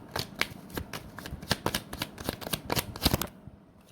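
A deck of tarot cards is shuffled in quick riffling bursts, crisp and close, with rapid flutters over about three seconds before stopping.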